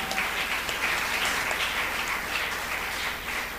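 A church congregation at a Sunday worship service applauds in a steady, dense wash of clapping that carries on without a break, loud and close, with no one speaking.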